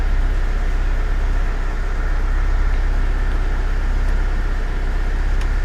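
A car that has sat unused for months runs almost out of fuel, idling in a continuous, steady rumble with a dense low hum and no talking.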